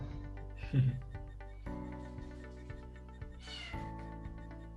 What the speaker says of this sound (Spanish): Se escucha como un gatito.